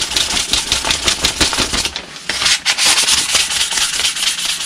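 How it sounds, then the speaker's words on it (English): 800 grit sandpaper polishing the edge of a steel blade, rapid close scratchy rubbing strokes in a quick rhythm, with a brief pause midway. "I'm just going to basically polish the edge because I do want it to be smooth."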